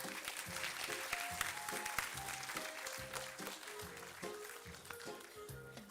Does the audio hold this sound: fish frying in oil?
no